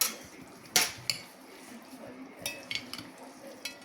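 Utensils clink and scrape against a bowl as a Korean-style noodle salad with vinaigrette and spices is mixed, sharp clatters scattered among softer stirring sounds, close and fairly loud.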